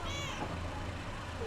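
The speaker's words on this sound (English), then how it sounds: "Here, little kitty, come on." A cat meows once in a Scooby-Doo video game, a short wavering cry at the start over a low background rumble.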